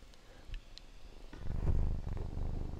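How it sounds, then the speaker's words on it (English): A cat purrs close by, a low rumbling hum that swells after a short quiet start and continues steadily. "can you hear him purring?"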